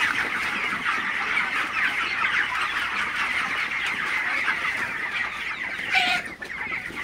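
Broiler chickens in a poultry house in very cold weather make a dense, continuous chorus of clucking and chattering with rustling movement. A slightly louder squawk stands out near the end.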